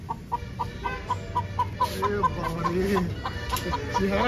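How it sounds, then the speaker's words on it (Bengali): A country rooster at an Adivasi home clucks in a steady run of short, evenly spaced calls, close and fairly loud, with some softer fowl sounds and background noise. "শুধু মোরগটা দেখো শুধু"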